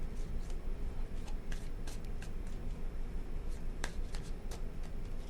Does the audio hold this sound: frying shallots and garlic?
no